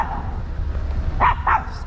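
A dog lets out two quick, sharp barks close by over steady outdoor background noise.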